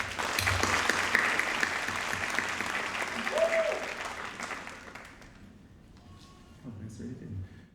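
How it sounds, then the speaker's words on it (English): An audience at a Sankofa Celebration 2025 graduation event claps in a dense, loud round that slowly thins and fades, followed by a few low sounds near the end. "So let's give him a round of applause."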